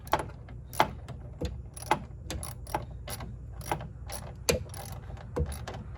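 Ratchet tightening bolts during a radiator replacement on a 1999–2001 Ford Ranger, a series of close, irregular clicking ratchet strokes with sharp metallic ticks.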